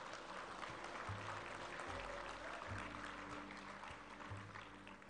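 Audience applause for session participants at a conference, a steady dense clapping wash filling the room with no pauses, with low sustained tones running underneath.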